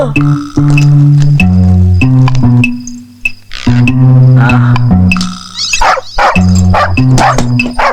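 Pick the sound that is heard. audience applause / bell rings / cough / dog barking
dog barking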